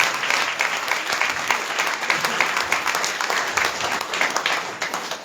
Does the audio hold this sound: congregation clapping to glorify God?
yes